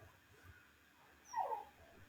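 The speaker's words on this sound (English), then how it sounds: "My dog is crying." A dog whimpers faintly in the background of a quiet room, with one soft, high, whining cry.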